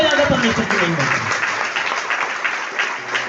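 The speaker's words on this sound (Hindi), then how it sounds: "जोरदार ताली बजाकर परमेश्वर की महिमा करें" Loud, sustained clapping from a church congregation praising God after a healing testimony, a dense steady wash of applause with a voice briefly audible at the start.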